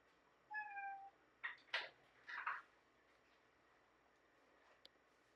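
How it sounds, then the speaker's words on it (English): A cat meows several times in short, rising calls, fairly close in a quiet room, then falls silent apart from a faint tick. "Here's my cat."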